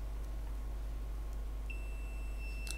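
A Fluke multimeter gives a single clear, steady continuity beep partway through, holding to the end over a quiet background with low mains hum.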